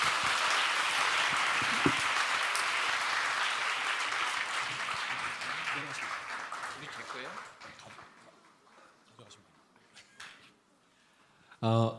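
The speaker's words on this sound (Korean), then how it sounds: "우리 소연 주님 강사님께 박수 드려주시기 바랍니다" An audience at a church summer retreat applauds a lecturer, a loud, full round of clapping that gradually thins and fades away over about eight seconds, followed by quiet room noise and a brief voice at the close.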